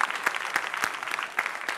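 An audience at a dance competition gala concert applauds the jury members, a lively spread of clapping with a few louder claps standing out from the crowd.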